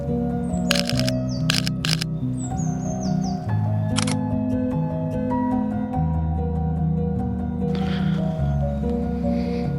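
A Sony A7IV camera shutter clicks in a few quick bursts while photographing birds outdoors on a morning nature shoot, sharp close snaps over a steady hum, with birds chirping faintly and no talking.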